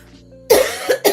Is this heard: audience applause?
no